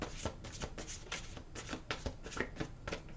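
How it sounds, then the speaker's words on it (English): Angel cards shuffle steadily close to the listener, making a quiet run of rapid papery flicks and riffles with no pause and no voice over them. "I'm taking out an angel card."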